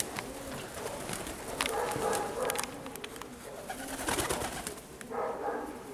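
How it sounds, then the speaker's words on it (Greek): Pigeons at Perama coo in soft repeated bursts, with scattered brief flutters that suggest birds arriving, all fairly quiet and slightly distant outdoors. "Έρχονται τα πουλάκια"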